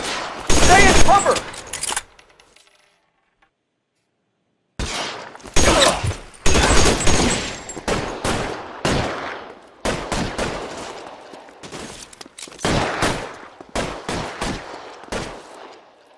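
Gunfire in L.A. Noire on PS4: loud bursts of rapid shots and fusillades crackle in clusters, broken by a couple of seconds of silence before the firing resumes in repeated volleys.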